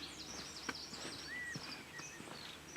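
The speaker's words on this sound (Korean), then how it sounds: "새소리." Faint birdsong from the distance in rural Kilkenny, Ireland, thin chirps and whistled phrases scattered over quiet outdoor ambience with a few soft taps.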